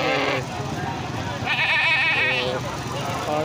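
Goats, male goats and fat-tailed sheep bleat at a busy Bakra Mandi livestock market in Talagang, Pakistan, with a long wavering bleat rising over someone talking close by and crowd noise.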